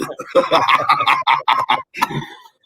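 A voice loudly imitates a chicken, with a fast series of choppy clucks and squawks up close that trail off into silence.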